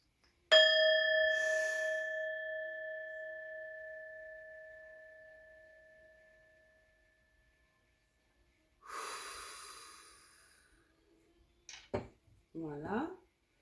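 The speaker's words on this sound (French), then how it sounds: "Nous allons sonner la cloche." A bell rung once for a weekly tarot card draw gives a clear, bright strike whose tone rings on and slowly fades over several seconds, followed by breathy noises and a brief voice.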